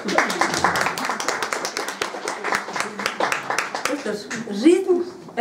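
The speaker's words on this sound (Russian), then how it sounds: "Ваши аплодисменты." A burst of clapping from a group, rapid and uneven, gradually thinning out near the end.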